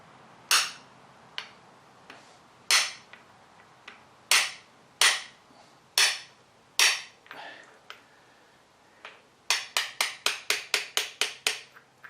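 Sharp metallic hammer taps on a part of a Harrison M300 lathe feed gearbox ring out, spaced singly at first, then a rapid run of quick blows near the end; close and crisp.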